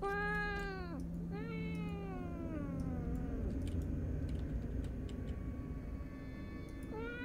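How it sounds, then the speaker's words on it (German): A cat in the video game Fears to Fathom: Woodbury Getaway gives several drawn-out meows, loud and close, over a low steady background hum. "Das ist die Katze, die der Hausbesitzer gesucht hatte."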